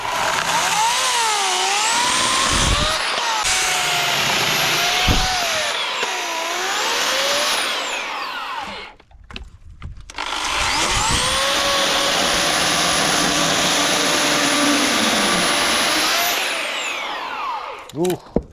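Chainsaw cutting ash wood into firewood, the engine screaming at high revs in long sustained cuts, dropping briefly to idle between them, loud and close with a voice faintly underneath.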